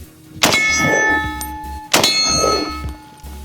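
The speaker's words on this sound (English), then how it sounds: "Man, that steel sounds so good." Two sharp metallic clangs of bullets hitting a steel target about a second and a half apart, each ringing briefly after impact, with faint distant thuds in between.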